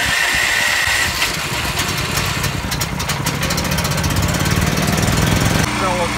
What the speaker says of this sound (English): All right, let's fire up the generator.